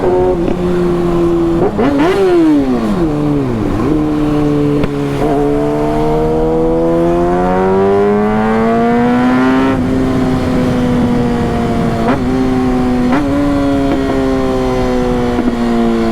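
A loud Kawasaki ZX-6R sport motorcycle engine revs up and down, then holds a high, sustained full-throttle roar, close and continuous with shifting pitch as it accelerates.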